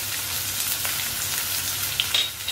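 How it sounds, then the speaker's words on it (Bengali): Chopped onion and garlic fry in oil in a pan, a steady close hissing sizzle throughout with a few brief crackles near the end. "এবার তো আমরা হালকা ভেজে নেব, দুটো রসুনের কাঁচা গন্ধটা বেরিয়ে যায়।"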